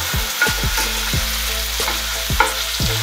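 Pieces of sulphur shelf mushroom fry with pressed garlic in a pan, crackling and sizzling loudly up close, with a few sharp spatters and scrapes over the steady fry.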